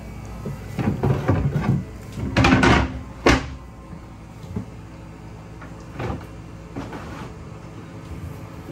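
A storage compartment door opens in the interior of a boat named Peregrina: a run of close wooden knocks and rattles, a louder clunk, then softer thuds, with no speech.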